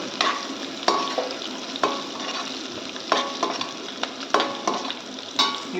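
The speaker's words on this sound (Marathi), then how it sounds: "मिरच्या आणि तीळ हे सगळं घालून टाकायचं आहे हे थोडंसं परतून घ्यायचं आहे" Green chilies, grated ginger and sesame seeds sizzle in a hot pan while being stirred for a traditional Maharashtrian Bhogi vegetable dish, with a steady close crackle and regular scraping strokes of a spoon and no talk.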